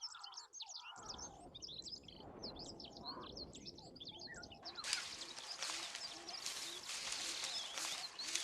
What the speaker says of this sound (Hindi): लाल चोंच वाले ऑक्सपेकर पक्षियों की आवाज